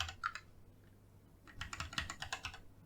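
Quick bursts of typing on a computer keyboard while entering a variable name in design software, a short run of clicks, then a pause and a denser, louder flurry of keystrokes, close and without talk.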